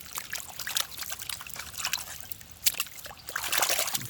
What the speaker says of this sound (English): Let's wash it off, take a look at it here.